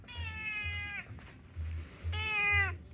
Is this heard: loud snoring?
no